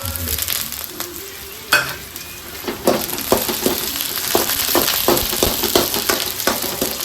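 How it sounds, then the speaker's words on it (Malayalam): Onions and curry leaves fry in a pan for a mackerel curry, a steady close sizzle broken by sharp scraping stirs and clinks, with no talk. "സവാളയൊക്കെ ഒരുവിധം വഴണ്ടു വന്നിട്ടുണ്ട്"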